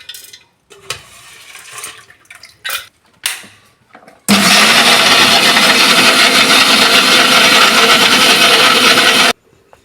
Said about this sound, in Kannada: ಈಗ ಇದನ್ನು ದೋಸೆಗೆ ರುಬ್ಬೋಣ. ಈಗ ನಾನು ರುಬ್ಬಕ್ಕೆ ಹಾಕ್ತಾಯಿದ್ದೀನಿ.